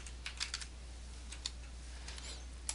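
Quiet, sparse keystrokes on a computer keyboard tap in short bursts over a low steady hum, with brief pauses between groups of keys.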